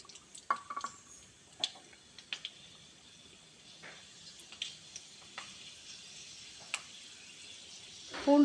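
Fenugreek seeds crackle in hot oil for a field crab curry: scattered small pops and sputters over a faint, steady sizzle, fairly quiet and close, with a louder burst of frying at the very end.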